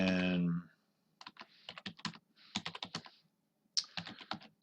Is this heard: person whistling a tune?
no